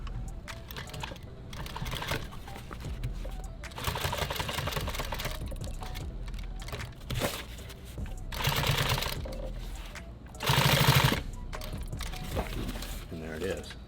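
A sewing machine stitching nylon tactical gear runs close and steady, a busy mechanical whirring chatter that surges louder in a few short bursts before settling back.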